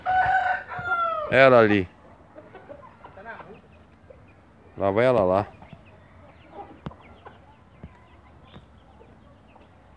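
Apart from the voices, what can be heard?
chickens clucking and a rooster crowing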